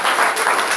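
A church congregation keeps up thick, continuous applause, many hands clapping at once at full volume in a short, unbroken burst.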